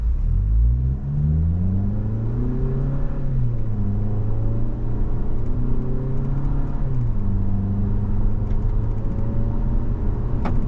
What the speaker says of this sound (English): All right, we're gonna take off. We're gonna feather in the gas because this is a brand new engine.